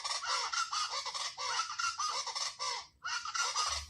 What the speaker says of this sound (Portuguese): que é da espécie da Venezuela, que é o araquã de ventre ruivo